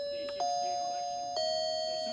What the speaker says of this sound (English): you can test the chimes to see if they work, and they do